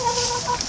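Chickens cluck softly and steadily at close range over a hum of background noise, with no talk.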